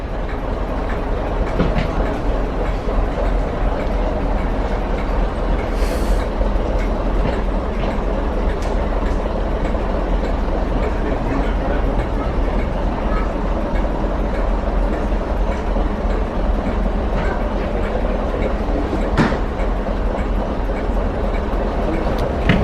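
A steady, rumbling diesel engine of a diesel multiple unit train idles continuously at a heritage railway station, with low mechanical drone and occasional faint clicks and knocks throughout.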